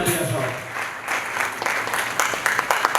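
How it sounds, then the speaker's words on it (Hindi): Enthusiastic applause from a training-session audience in Haridwar, a dense continuous patter of many hands that swells slightly near the end, with sharper individual claps standing out. "एक बार जबरदस्त तालियां दिल से, जबरदस्त तालियां कमल जी के लिए"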